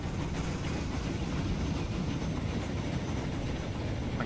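An Atlantic steam locomotive hauling light passenger coaches in the Transport Fever video game rumbles along steadily, a continuous, fairly loud rolling roar with no pauses.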